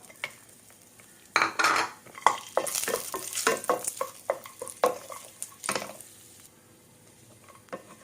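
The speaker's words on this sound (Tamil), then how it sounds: "பொடி பண್ணி வச்சுருக்க முந்திரியை போட்டு அதே கடாயில் வறுத்துக்கலாம்." Ground cashews being roasted in a kadai, with a quiet start followed by a busy stretch of metal spoon scraping and stirring over a light sizzle, close by and without talking, then fading back to quiet.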